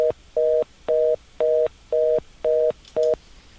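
A telephone line tone follows a not-in-service number recording: seven evenly spaced, short beeps at a steady pitch, clear and alone.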